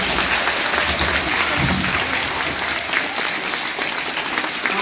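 An audience at a student government election applauds a student candidate for treasurer, a loud, dense, continuous burst of crowd clapping.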